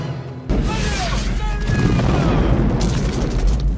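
Grenade explosions in a war film scene: a sudden loud blast erupts and rolls into a dense, sustained rumble of booms and debris, with faint shouting and whistling streaks mixed in.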